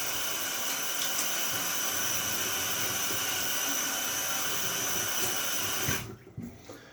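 Steady broadband rush of tap water running continuously and close, then cutting off abruptly near the end, leaving quiet room sound.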